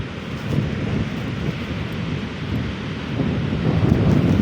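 Strong wind buffets the microphone on a beach during a storm as waves crash steadily. The roar is loud, close and continuous, with low rumbling gusts.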